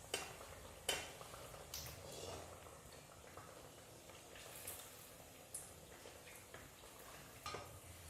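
Small round pancake batter balls frying in a pan, a faint, steady sizzle broken by occasional sharp clinks and scrapes of a utensil, quiet and close.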